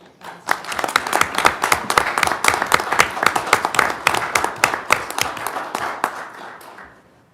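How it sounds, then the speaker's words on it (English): Sustained applause from a city council meeting audience, steady dense clapping lasting several seconds at moderate loudness with no talk over it, tapering off at the end. "So let's have a big applause."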